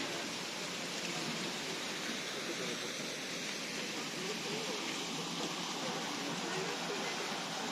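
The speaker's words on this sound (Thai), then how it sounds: "เป็นวิวอันน้ำตก" The waterfall at Linderhof Palace roars as a steady, broad rush of falling water, constant and moderately distant with no breaks.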